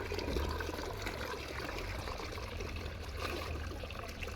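A steady, faint trickle of water runs continuously with a low hum underneath, no voices present.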